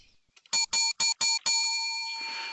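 A bell sound effect closing a sports talk show: five sharp, bright chime strikes in quick succession, the last one ringing out in a long, sustained decay.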